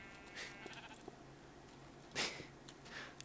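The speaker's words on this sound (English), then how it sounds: "Sheep having a party in there." Sheep in a blocky sandbox building game bleat several times, short nasal calls overlapping at moderate distance, with one louder, closer bleat near the end.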